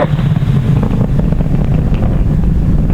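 Falcon 9 rocket engines roaring during ascent through the throttle-down and max Q phase, a loud, steady, continuous low rumble with wind-like buffeting and no gaps throughout.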